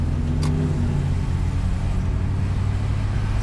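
A 1992 Volvo 240 GL automatic drives along, its engine and road noise filling the cabin with a loud, steady, continuous drone and no clear break at the gear changes.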